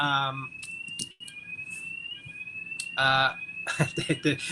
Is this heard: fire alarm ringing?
yes